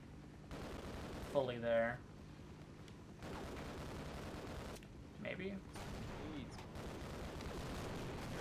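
Gunfire in the Half-Life: Decay video game: bursts of shooting and impacts run through the clip under a person talking, with a louder spike around the middle.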